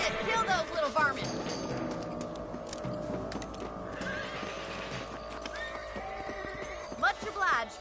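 A horse in the video game Red Dead Redemption whinnies loudly at the start and again near the end, with hooves clip-clopping in between and game voices talking underneath.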